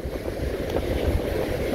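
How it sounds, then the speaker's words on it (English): Strong wind buffets the microphone on a beach at Cape Point, Buxton, North Carolina, at night during high tide, a constant low roaring rumble with surf mixed in and no voices. "Wind blowing in our face real hard."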